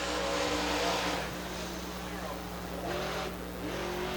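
Late model race car engine running on the track at Dixie Speedway during a qualifying lap, a steady loud roar with a shifting pitch, under a commentator's continuous talk.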